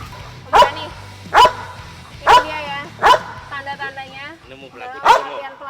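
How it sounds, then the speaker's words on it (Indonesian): A police tracking dog barks on a training mission after finding the person, five loud, evenly spaced barks up close, with softer whimpering yips between them. "Ketika dia menemukan pelaku di pemberani, dia akan menggonggong seperti ini."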